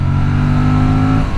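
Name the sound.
Aprilia RS 457 motorcycle downshifting and revving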